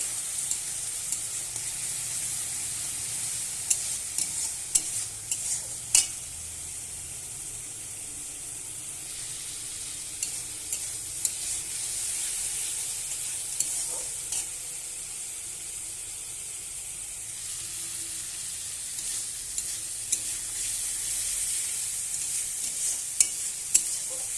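Masala being stirred and sautéed with milk in a pan for a paneer and potato dish, a steady soft sizzle with scattered scraping stir strokes throughout, fairly quiet and close, no talking.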